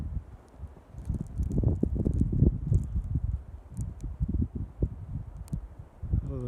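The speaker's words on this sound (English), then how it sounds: "There's a gust." Blizzard wind gusts and buffets outdoors as a low, rumbling roar that swells and eases unevenly, with occasional faint higher crackles on top and no voices.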